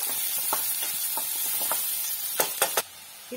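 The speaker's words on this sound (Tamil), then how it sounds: "வெங்காயம் நல்லா வதங்கட்டும்." Finely chopped large onion frying in hot oil for a pepper chicken gravy, a steady close sizzle with light stirring scrapes and a few sharp clacks near the end.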